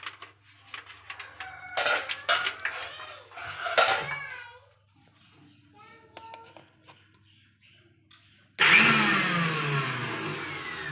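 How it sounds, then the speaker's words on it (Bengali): A kitchen mixer grinder starts abruptly near the end and grinds rice and lentils with a loud, steady whirring roar. Before it, household clatter, short chirpy sounds and scattered voices come and go. "মিক্সিতে গুঁড়ো করে নিই"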